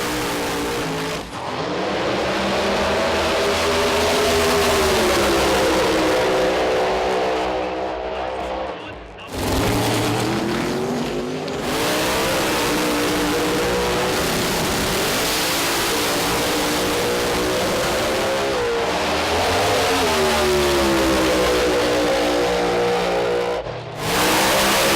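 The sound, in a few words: Pro Mod turbo and blown drag racing cars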